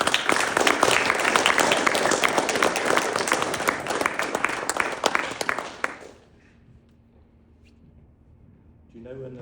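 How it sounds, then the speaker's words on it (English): Conference audience at DePIN Day 2024 applauding, dense loud clapping for about six seconds that stops abruptly, leaving quiet room tone before faint sound returns. "Can we give a round of applause for everyone that worked on this?"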